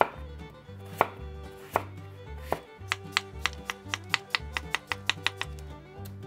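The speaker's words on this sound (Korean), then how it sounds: "감자도 그냥 통으로 슬라이스로 썰어 줍니다" Whole potatoes sliced with a knife on a cutting board, a few spaced knocks at first and then a fast, even run of crisp chops, close and clear, with no talking.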